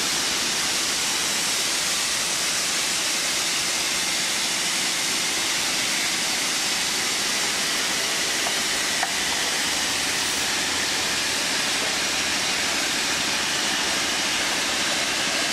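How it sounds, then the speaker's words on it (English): Steam rushes steadily from a wide-open steam valve on a hose during a beeswax trash run in a Vincent screw press, a loud continuous broadband hiss that fills the whole stretch without pause. "Crank that steam valve wide open over there, Fred"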